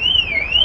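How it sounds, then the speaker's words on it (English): A car alarm sounds outdoors as a steady, wavering electronic siren tone that rises and falls, fairly loud and heard briefly, with no talking. "Oh, there's a car alarm going off."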